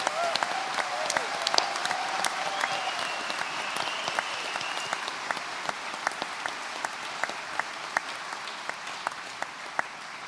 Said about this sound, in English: I think I want one more round of applause for all of our fantastic people today.